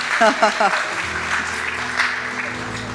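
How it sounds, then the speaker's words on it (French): A church congregation applauds at a morning service, steady dense clapping throughout with an excited voice whooping near the start. "Est-ce qu'on peut les accueillir, les applaudir ce matin?"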